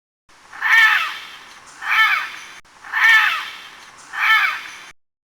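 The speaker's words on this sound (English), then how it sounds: "Parrot," A parrot gives four loud, harsh squawking calls in an even rhythm, each rising and falling, with short gaps between them and nothing else heard.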